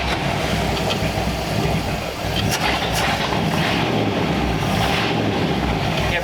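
A 1934 Ford engine with a freshly rebuilt carburetor running loud and steady right after starting, a dense continuous rumble throughout with wind buffeting the microphone; no clear cranking moment stands out.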